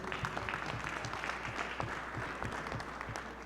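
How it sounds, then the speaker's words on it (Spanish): Audience applause at a weekly political assembly in Mexico, a steady wash of clapping hands that fills the whole stretch at moderate volume with no voices on top. "Un aplauso, por favor."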